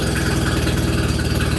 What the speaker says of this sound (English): You want to hit that beautiful electric start and see if we can get this thing fired up?